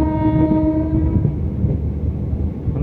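The Puri–Shalimar Garib Rath, an ICF train, runs into Andul station, its horn sounding a long chord over the rumble and clatter of the wheels, heard up close without talk.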